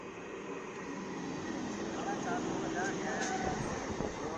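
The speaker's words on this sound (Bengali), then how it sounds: "ফাইনালি চলে এলো আমাদের ট্রেন" Train pulling into a station near Asansol, a low rumble building slowly under a busy platform with voices talking throughout.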